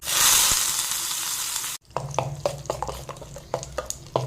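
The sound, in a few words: tempering sizzling for chutney, tea boiling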